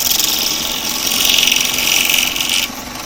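A woodturning lathe tool shaves spinning wood, with only the burr of the tool's edge in contact. It makes a bright, rasping scrape that swells and holds for about two and a half seconds, then cuts off abruptly and leaves a low hum.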